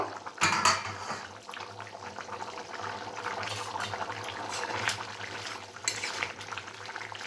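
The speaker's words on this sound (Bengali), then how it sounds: "দশ মিনিট হয়ে গেছে এবার আমি ঢাকনাটা তুলে নেব" A lid comes off a pot of boiled kabuli chickpeas with a short clatter near the start, followed by soft clinks, stirring and a gentle cooking hiss at low volume.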